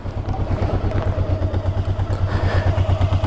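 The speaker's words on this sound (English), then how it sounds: "Normally these are not the quietest of engines anyway, but this isn't a bad one at all." A Honda motorcycle engine, bought cheaply and checked over, idles steadily in neutral with an even, throbbing low pulse and light mechanical clatter, close and continuous throughout.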